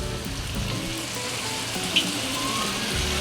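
Samosas slid into a pan of hot oil fry with a steady, close sizzle and crackle that runs unbroken throughout, with one brief sharper pop near the middle and no voices.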